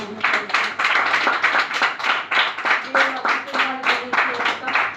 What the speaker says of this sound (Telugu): ఆ కుటుంబం కోసం మనమందరం చప్పట్లు కొట్టి